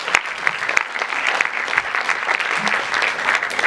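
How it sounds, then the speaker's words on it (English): An audience at the closing of a Model United Nations conference applauds the volunteers with a lively round of clapping, dense and close, with individual claps standing out in an uneven, energetic patter. "please, huge round of applause for the volunteers"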